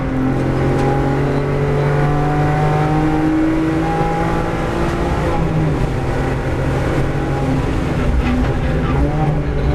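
A race car lapping a track during a track-school driving session, its engine droning loudly and steadily throughout with shifting revs and tonal whine, close and continuous with no talk.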